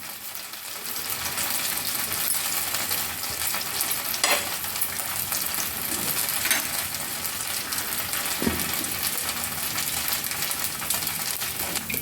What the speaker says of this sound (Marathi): एक 2 मिनटं डोसा भाजून घेऊया.